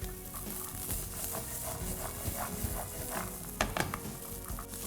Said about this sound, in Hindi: और अब हम ऐड करेंगे हमारे ग्रीन पीस. करीब 3 से 4 मिनट तक we'll saute it.